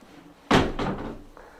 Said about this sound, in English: Open the door for me, Larry.